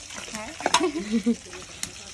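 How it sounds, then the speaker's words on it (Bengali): Fish frying in a pan at a village home gives a soft, steady sizzle under brief scrapes and clinks, with a voice murmuring nearby. "তো এদিকে এসে মাছ ভাজছে"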